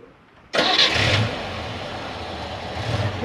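A Moskvich 2140 car engine cranks and catches in one abrupt start, then settles into a steady, fairly close idle.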